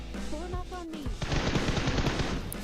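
Rapid bursts of gunfire from the PUBG Mobile video game, a dense rattling string of shots that follows a short stretch of in-game voice chatter, loud and close.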